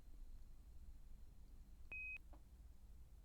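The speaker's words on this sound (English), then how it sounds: "The beeps are a beacon from home." Soft electronic beeps from a homeward beacon in a quiet, spacecraft-like setting: one short steady tone, then a faint second blip, gentle and low over a hushed low rumble.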